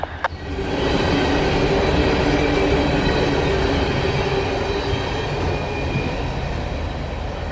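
Freight train E904 rumbles steadily past close by near Dalton, its heavy wheels and cars making a loud continuous roar and clatter after one brief sharp click at the start.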